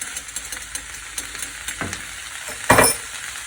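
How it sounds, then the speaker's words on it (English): Vegetables stir-fried in a pan without a wok, stirred with a spoon: a steady close sizzle with light scrapes and a louder clatter near the end. "So I prefer to just stir this with a spoon first."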